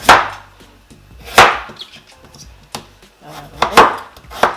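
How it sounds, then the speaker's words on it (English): A knife slices through tough-skinned butternut squash on a cutting board, giving several loud, close chopping thuds at uneven intervals with quieter scraping between them. "the key of slicing this is try and slice it as skinny as possible"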